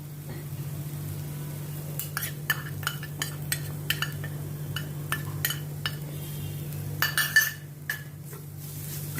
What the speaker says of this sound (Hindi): कॉर्न को भी अच्छी तरह से मैं प्याज और मसालों के साथ मिक्स करती हूँ